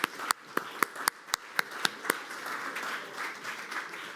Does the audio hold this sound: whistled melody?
no